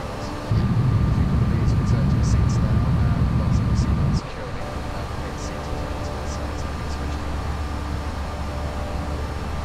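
Steady broadband cockpit rumble of a jarDesign A320 airliner at cruise in the X-Plane 11 flight simulator, a constant engine-and-airflow drone with a steady tone on top. It drops to a quieter level partway through.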